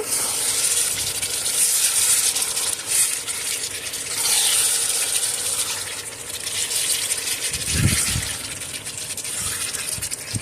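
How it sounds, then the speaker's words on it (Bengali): Chicken with whole garlic cloves is stirred in a hot pan, giving a steady hissing sizzle with soft scraping and a brief low knock near the end. "এবার নাড়াচাড়া করে দিব"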